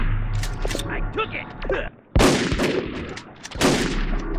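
Gunfire in the online shooter game MicroVolts: several loud bursts of shots, with a sharp blast near the middle and another toward the end, mixed with game noise and voices talking over it.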